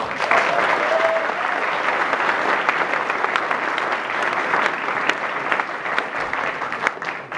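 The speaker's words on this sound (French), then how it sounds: "On peut l'applaudir." Sustained applause from an audience at a Baptist association assembly in Saint-Louis, steady dense clapping filling the room at an even level throughout.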